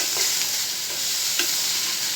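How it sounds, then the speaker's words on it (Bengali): Small pieces of fish fry in a pan with a continuous bright sizzle and a few soft scraping stirs, steady and close, with no voices. "মাছ দেখুন ভাজা হয়ে গেছে প্রায়"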